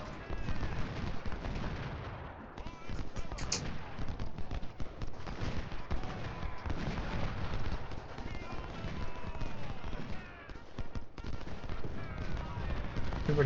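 Civil War battle in Ultimate General Civil War, musket volleys crackling and thudding amid a continuous din of distant fire, horses and marching, with someone talking over it throughout.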